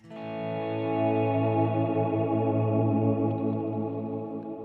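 Ambient swell guitar tone from a Fractal FM9 effects unit, a sustained chord that fades in softly from silence, blooms into a rich layered drone with long reverb, and holds steadily without talk.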